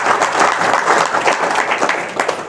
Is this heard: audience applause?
yes